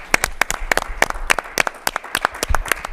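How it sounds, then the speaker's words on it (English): Applause from a small audience at a community meeting in Vermillion, South Dakota: sparse, distinct hand claps in an uneven rhythm, fairly close, with no talk over them. "we give him a round of applause"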